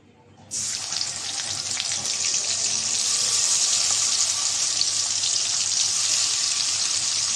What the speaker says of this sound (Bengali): বাকিগুলো একইভাবে এখন ভেজে নেব।